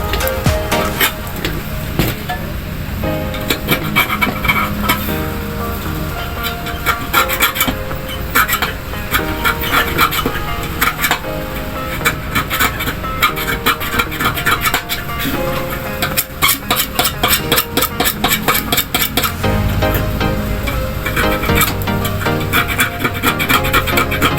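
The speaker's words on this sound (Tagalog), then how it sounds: "Kuskusin na natin to guys." A rusty rice cooker part being scrubbed hard with a scrubber, loud continuous rasping strokes in a fast, uneven rhythm, close up, with no talk.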